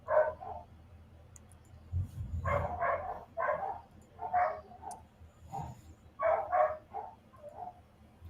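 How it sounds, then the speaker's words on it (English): Several dogs bark in a kennel room, with sharp, fairly close barks coming in irregular bursts and clusters over a quiet background, some overlapping doubled yaps. "sorry about the dogs, guys."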